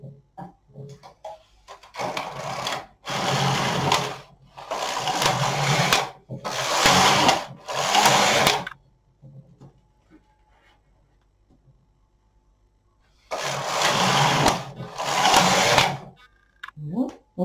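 A Singer Memo II knitting machine knits rows for the neckline of a size 40 sweater, its carriage sliding in loud, rapid whirring passes of about a second each, separated by short pauses and a longer quiet gap.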